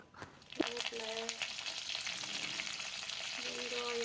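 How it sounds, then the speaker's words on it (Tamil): Fennel seeds and curry leaves fry in a little oil in a pan, giving a steady bright sizzle with a few sharp crackles and pops near the start, close and continuous. "சோம்பு கொஞ்சம் போட்டு கொஞ்சம் போட்டு கொஞ்சம் வறுத்து கருவேப்பிலை போட்டுக்கலாம்."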